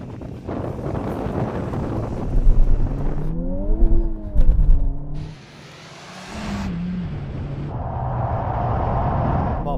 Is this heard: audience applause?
no